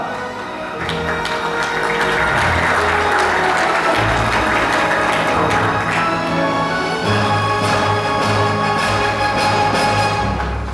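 Warm applause greets a sales manager at a furniture gala, a loud, sustained clapping crowd that swells quickly and holds steady for several seconds, with faint music-like tones underneath.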